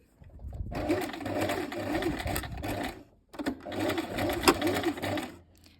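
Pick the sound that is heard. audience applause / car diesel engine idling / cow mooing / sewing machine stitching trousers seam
sewing machine stitching trousers seam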